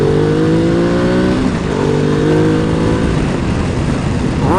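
A Ducati Multistrada 1200S motorcycle accelerates in second gear, its loud engine note climbing steadily in pitch, dipping briefly at a shift, then rising again close up.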